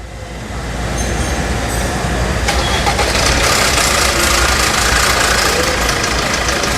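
An old pickup truck's diesel engine cranks and catches after glow plugs are fitted, building to a loud, steady knocking rumble that carries on without talk.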